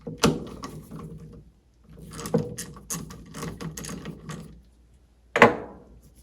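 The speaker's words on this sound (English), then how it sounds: "we need to grab our Craftsman 1/4-inch ratchet with the 1/2-inch socket and carefully remove these" A Craftsman 1/4-inch ratchet with a 1/2-inch socket backs out plugs on a Mercruiser Alpha One Gen 1 outdrive trim ram, heard as close bursts of rapid clicking separated by short pauses, ending in a sharp metallic clack.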